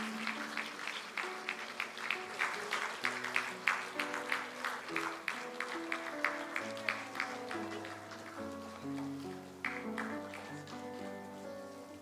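A church congregation at an evangelism training school graduation in Ulsan claps for the graduates, sustained dense applause throughout while soft organ or keyboard chords play underneath.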